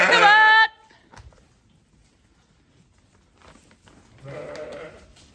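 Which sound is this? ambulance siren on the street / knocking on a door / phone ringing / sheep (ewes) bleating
sheep (ewes) bleating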